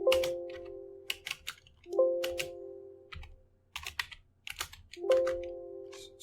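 Rapid bursts of clicking keys on a computer keyboard, typed up close in short irregular flurries with brief pauses between, over a faint steady hum.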